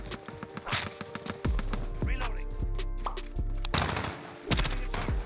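Automatic weapon fire in the Modern Warfare multiplayer game, with an M13 rifle among the guns, comes as rapid repeated bursts of loud shots and heavy impacts, mixed with scattered clatter and game effects.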